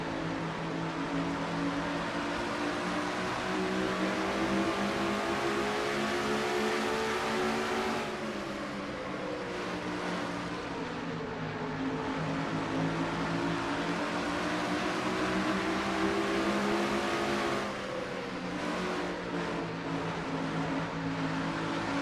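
Stock race cars roaring through turns 3 and 4 in heavy traffic in a sim racing game, a dense, loud and continuous engine drone whose pitch swells and dips as the cars pass through the corners.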